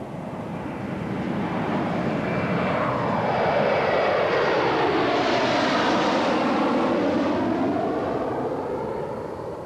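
A remote-controlled airplane flies past with a steady engine drone that swells as it nears and fades as it moves off, with a broad sweeping rush and no voices.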